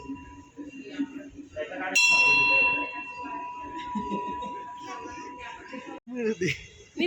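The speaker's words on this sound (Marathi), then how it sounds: "बाबा तिला घेऊन घंटी वाजवतात" A bright metal temple bell rings out once and its tone hangs and slowly decays, with people talking and a voice underneath.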